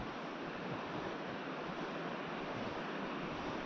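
Rapids on the Prut River, a fast, strong current over a shallow riffle, rushing in a dense, unbroken roar close by, with some wind buffeting the microphone.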